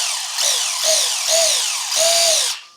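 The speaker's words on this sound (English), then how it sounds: "That mesh sounds a little bit tight." Metal-geared mini RC buggy, a waterproof model, with a tight gear mesh giving a loud, high whine that rises and falls in four short revving bursts close by, then cuts off.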